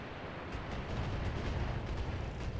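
Indirect-fire rounds landing in the mech combat game BattleTech make a steady, dense rumbling roar of overlapping impacts, a continuous barrage rather than separate distinct blasts, heard at moderate loudness.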